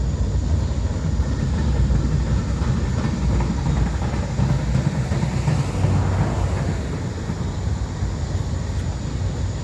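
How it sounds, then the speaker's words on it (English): A long freight train of empty-looking 75-foot flat cars rolls past behind two locomotives, a steady loud rumble and rail clatter that holds throughout and eases slightly near the end. "We had 2 locomotives come through, and we got all these flat cars."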